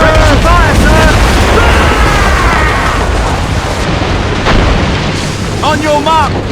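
A warship fires a cannon volley in the naval battle of Assassin's Creed Rogue. Heavy booms and bursting blasts crowd together in a rumbling barrage, with crew shouting among them.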